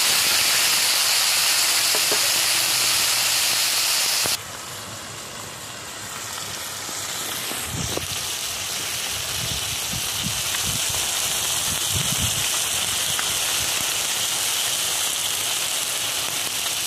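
Small kachki fish fry gently in hot oil as a steady, loud hissing sizzle; the hiss drops slightly after a few seconds and soft clinks and bumps from a spatula turning the fish follow.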